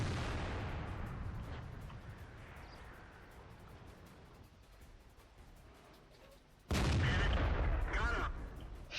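A T-62 tank cannon fires in War Thunder: one sudden, loud, close blast near the end that cuts through a steady rumble of engine and battle noise.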